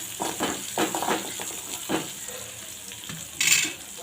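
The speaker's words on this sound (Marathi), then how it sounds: "कांदा छान आपल्याला शिजवून घ्यायचा आहे" Chopped onion fries in a pan for a Marathi-style brinjal bharit, a close, steady sizzle broken by several scraping stirs, with a louder burst of hissing near the end.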